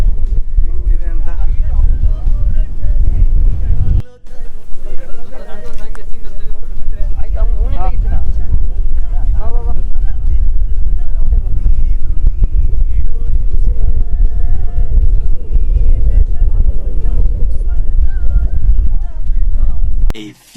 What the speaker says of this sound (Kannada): ಗೈಸ್ ಗಾಳಿ ನೋಡಿ ಕೇಳಿಸ್ಕೊಳ್ಳಿ